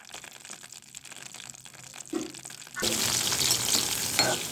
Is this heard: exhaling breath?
no